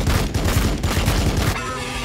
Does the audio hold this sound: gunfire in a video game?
yes